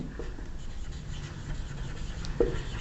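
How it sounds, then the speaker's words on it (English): Pen or marker writing out an equation gives faint, scratchy strokes with a few small taps against a low background hum. "Now I'm writing here"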